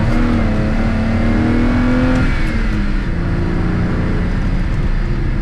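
A car's engine revs hard and steady as it is flicked into a drift with an open differential, the loud, continuous drone holding throughout with a slight shift in pitch midway and no talking.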